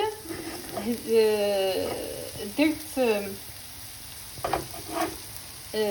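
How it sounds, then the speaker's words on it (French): Onion sizzling in a little oil in a frying pan, a soft steady crackle heard under a voice speaking close by. "درت البصله ديالي فوق المقله ودرت معاها شويه ديال الزيت وغادي نحمرها شي شويه"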